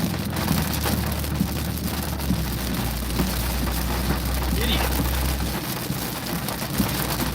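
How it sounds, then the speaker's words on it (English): Heavy rain drums steadily on a car driving through a downpour near Sydney, a dense, constant hiss with low road rumble, and a voice briefly speaks over it. "Yep, we've got heavy rain now."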